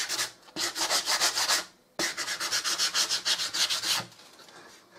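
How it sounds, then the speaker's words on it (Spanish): Fine-grit sandpaper rubs back and forth over a waxed, painted wooden wall hanger in quick rhythmic strokes, two bursts of scratchy sanding close up with a brief pause between. "vamos a coger una lija de grano fino y vamos a ir pasando, lijando toda la superficie"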